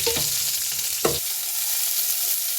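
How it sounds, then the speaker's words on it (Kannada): Chopped onions frying in a pan, a steady close sizzle throughout with a couple of brief scraping stir sounds near the start. "ಹಚ್ಚಿಟ್ಕೊಂಡಿರೋ ಈರುಳ್ಳಿನ ಹಾಕೊಳ್ಳಿ."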